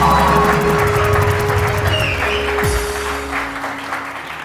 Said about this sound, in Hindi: और बहुत सारी तालियां सुंदस के लिए